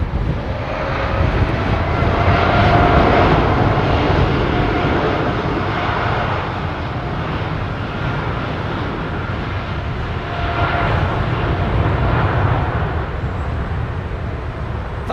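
A United Boeing 767 from Frankfurt roars steadily on approach at London Heathrow, its broad jet rumble swelling and easing over about fifteen seconds, loud and close with a faint voice underneath.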